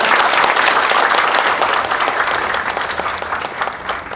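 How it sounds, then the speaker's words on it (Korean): Loud, close audience applause at a peace and security forum in Pyeongtaek, South Korea, a dense steady clapping crowd that fills the whole stretch, slightly easing toward the end. "여러분 뜨거운 박수 부탁드리겠습니다."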